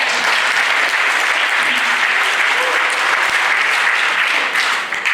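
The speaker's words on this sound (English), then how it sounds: "can we have another round of applause" Mourners at a funeral service give a dense, steady round of applause for two tributes. The clapping is loud and continuous for about five seconds and fades slightly at the end, with no clear talking.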